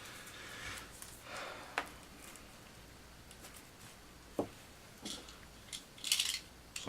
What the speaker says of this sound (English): Sometimes plastic doesn't come off as easy.